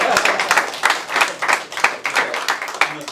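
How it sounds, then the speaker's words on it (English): Indoor applause at a Honda dealership gathering, with a small group clapping in a rhythmic, pulsing pattern of distinct hand claps at moderate loudness and close range. "Let's give a round of applause."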